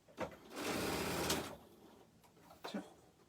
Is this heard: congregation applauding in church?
no